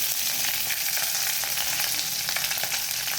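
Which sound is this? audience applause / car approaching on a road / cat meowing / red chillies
red chillies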